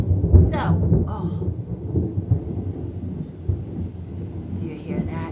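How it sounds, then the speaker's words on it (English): Low thunder rumbles and rolls in the distance while a person talks over it, with faint rain in the background. "Rolling thunder."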